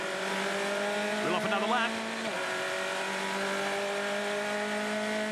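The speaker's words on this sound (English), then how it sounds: "These Duratec engines humming along nicely on lap 12." Formula Ford race cars with Duratec engines drone steadily at racing speed on a circuit at Winton, with a commentator talking over them.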